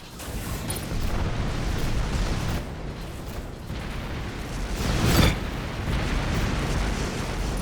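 Missiles pound a starship in the space combat game Rebel Galaxy, a dense, continuous roar of explosions and rumbling impacts that swells into a louder blast partway through, heavy and close with no voices.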